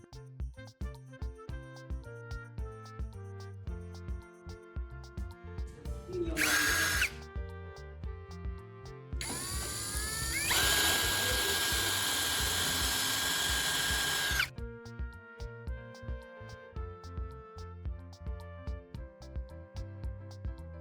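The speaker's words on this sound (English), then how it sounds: "We're going to drill a small hole right through its body" A power drill bores a small hole straight through a wooden block for a knife-sharpening jig, with a sustained loud whine for several seconds amid background music.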